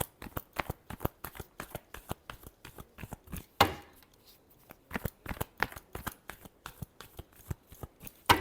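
Tarot cards being shuffled in quick, crisp riffling bursts, a steady run of sharp flicks broken by a brief pause midway, close and fairly quiet with no talking.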